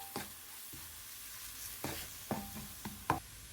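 Turmeric, chili powder and salt fry in a pan for a sweet and spicy vegan mango curry, giving a steady low sizzle broken by a few soft stirring scrapes and clicks.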